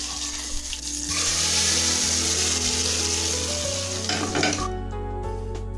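Hot tempering with curry leaves poured into a mung bean curry makes a loud, crackling sizzle that holds for several seconds, then cuts off sharply, leaving a low hum.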